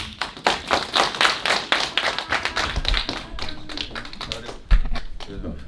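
A youth congregation at a church service claps, with sharp rhythmic claps in the first half thinning out toward the end, and a voice speaking over the later part.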